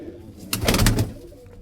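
A fancy pigeon gives a low, throaty coo up close, a short rolling call rising out of quiet background, in a pigeon loft.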